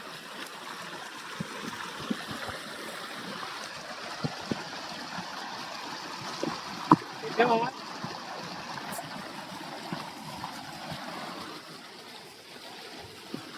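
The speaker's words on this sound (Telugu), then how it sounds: "చూడండి చిన్నపాటి వాటర్ ఫాల్ లాగా ఉన్నాడా" Water from a village canal near Penumudi spills over like a small waterfall, making a continuous rushing trickle at moderate distance, with a brief voice partway through.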